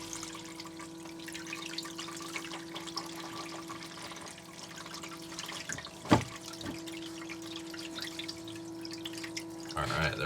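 Water runs steadily through a gold sluice processing concentrates, a continuous outdoor trickle and wash with occasional splashes and a faint background hum.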